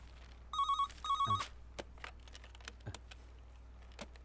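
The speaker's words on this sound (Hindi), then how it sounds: "सर फोन बज रहा है।" A telephone rings indoors in an office in two short bursts of bright electronic trilling, followed by quiet background clicks and faint shuffling.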